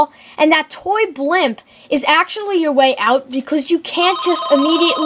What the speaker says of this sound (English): guys, that was my phone.